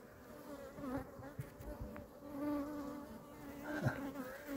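A steady, close hum of honey bees buzzing continuously, with a few brief knocks and shifts in the background and no talking.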